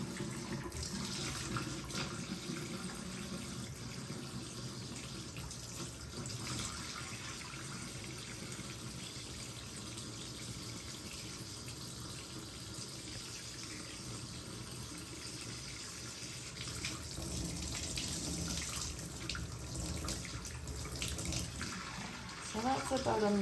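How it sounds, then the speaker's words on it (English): A tap runs steadily during a surgical hand scrub as nails are cleaned with a nail pick under the stream, a continuous close splashing hiss throughout. "clean the underneath of my nails under the running water."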